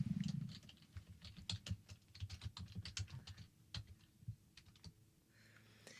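Computer keyboard typing during music software work, rapid light keystrokes in uneven bursts, close but soft, with a low hum under it and no talking.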